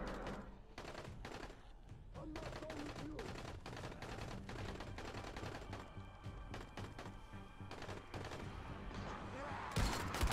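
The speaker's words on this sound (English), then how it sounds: "Oh, that's why they're shooting" Gunfire in the video game Dying Light, with rapid bursts of sharp shots and clattering impacts crowding a busy in-game scene, fairly faint overall.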